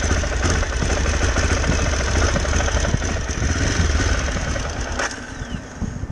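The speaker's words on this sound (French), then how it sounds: "Je te mets un coup de démarreur là." A vehicle engine with a fuel problem is cranked on the starter without catching. A continuous, rough, churning drone runs steadily for several seconds, close and fairly loud.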